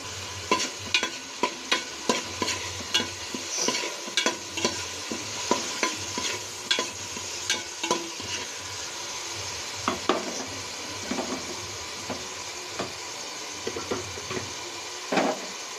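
Tempering seasoning with a pinch of turmeric fries in hot oil in a pan, a steady crackling sizzle broken by frequent sharp scrape-and-clack stirring strokes; no voices.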